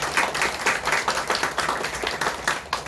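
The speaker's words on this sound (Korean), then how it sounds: "우리 박수로 축하해 주시기 바라겠습니다." Church congregation at a Sunday morning service in Korea applauding to celebrate a newly baptized member, a sustained, even round of many hands clapping in a large room.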